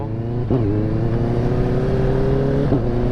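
A Kawasaki ZX25R motorcycle passes a house close by, its engine a steady loud drone that swells as it goes by, with brief gear-change blips near the start and end.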